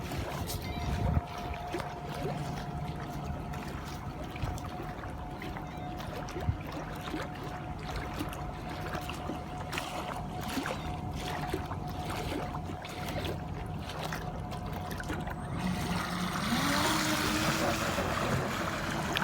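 Small CarpM model bait boat with a Falcon 5010 motor runs on choppy water carrying a 2.5 kg load, its faint steady motor whine mixed with wind and lapping waves, and a rising pitch near the end.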